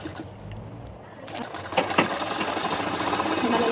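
An electric sewing machine stitches the side seam of a handmade travel bag, a steady mechanical whir building after a quiet start, with soft clicks and a voice talking in the background.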